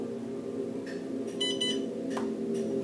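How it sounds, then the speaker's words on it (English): A Seestar S30 telescope powers on with a short pair of electronic beeps over a steady low hum, clear but not loud, followed by a faint tone. "Once it beeps twice, wait till it says this."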